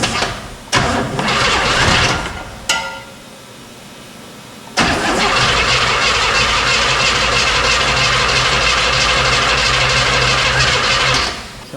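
Engine of a 1969 Buick Riviera cranking over, with a loud burst of starter grinding, a pause, another brief crank, then a sustained loud run that fades at the end, all close up.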